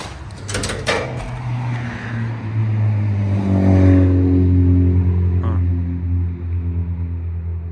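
Engines of cars at a nearby street race rev up and pass close by, a loud, sustained low droning roar that swells and fades over several seconds, with a sharp knock near the start.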